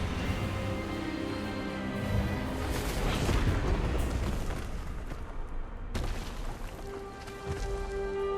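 The Expelliarmus disarming spell in Hogwarts Legacy fires as a rumbling, booming magical burst that swells over several seconds, then cuts off sharply into a quieter tail.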